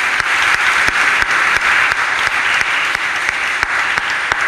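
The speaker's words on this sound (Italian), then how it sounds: "Per favore, un applauso." An audience at an award ceremony in Reggio Calabria claps steadily, a dense, loud and sustained applause throughout with no speech over it.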